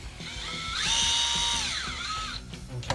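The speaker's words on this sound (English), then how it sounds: "And you just drill it all the way through" A power drill revs up to a high whine, holds briefly as it bores through, then slows and stops, with some clunking handling noise around it.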